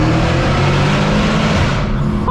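A Mercedes C63 AMG's engine roars loudly through a concrete underpass, a dense, sustained booming rumble that stays at full volume before easing off at the end.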